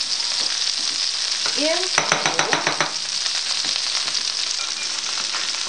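Lamb sizzling as it fries in a pan, a steady hiss throughout with a burst of clattering stirring in the middle and a brief spoken word near the start.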